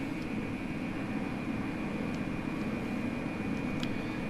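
Steady whining hum of a PMDG 777-300ER jet engine spooling up in the Prepar3D flight simulator, a constant drone with a faint high tone, no talk.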